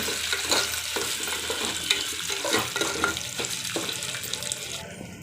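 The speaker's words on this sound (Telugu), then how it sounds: "కందిపప్పు ఫ్రై చేయండి, వేసుకొని ఫ్రై చేయండి." Toor dal frying in a pan, a continuous close sizzle with repeated stirring scrapes at an even rhythm, no talking.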